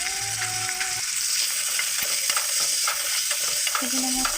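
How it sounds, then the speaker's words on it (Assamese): Chicken pieces with turmeric, salt and cumin fry in a hot pan, a steady sizzle broken by scraping stirs and brief clatters of a utensil against the metal. "তাৰপিছত অলপ জিৰা এড কৰি মই অলপ ভাজি লওঁ"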